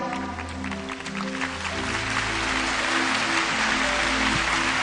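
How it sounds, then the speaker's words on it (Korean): A church congregation gathered for actor Cha In-pyo's testimony breaks into applause, a broad wash of clapping that swells and grows louder over a sustained low tonal hum from music or the hall's sound system. "귀한 얘기를 내주신 자연팬들께 박수 한번 치겠습니다"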